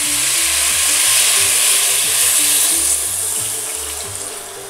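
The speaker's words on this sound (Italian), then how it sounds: "ora andiamo a unire il brodo caldo" Hot broth is poured into a pot of pumpkin and chickpea soup, a loud steady splashing and bubbling that eases slightly toward the end, with no speech.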